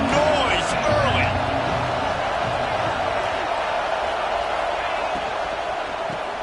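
Steady roar of a large stadium crowd at a college football game between Ohio State and Oregon, dense and continuous with scattered cheers and whoops rising from the mass of voices throughout.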